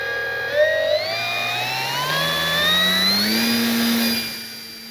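An electric motor on a Kavan Pulse 2200 V2 RC plane, running a 4S LiPo and flying into the wind at about three-quarter throttle, gives a loud, steady whine that climbs gradually in pitch and then eases off at the end.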